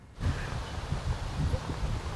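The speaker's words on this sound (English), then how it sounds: "a little windy here in Woodland Park" Steady wind buffeting outdoors on the Red Rocks Trail in Woodland Park, Teller County, a low rumbling rush with faint rustling, continuous and fairly close, no voices.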